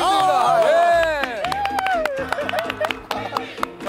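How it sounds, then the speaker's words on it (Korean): A group of people close by clap in a brief scattered burst of applause, mixed with excited voices and crowd chatter on a street set. "주변에 계신 분들이 박수를 쳐주네요"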